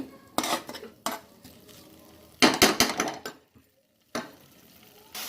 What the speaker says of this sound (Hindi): देखते मगे अदा रसुण पेस्ट पकेगा